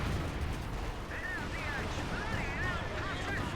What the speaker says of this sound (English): I hear Panzerwerfer.